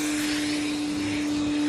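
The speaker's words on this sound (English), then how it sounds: "That's the vacuum at the bottom, huh?" A vacuum cleaner runs steadily in a DIY woodworking setting while a dining table is being built, a loud continuous whirring drone with a constant high motor whine and no talk.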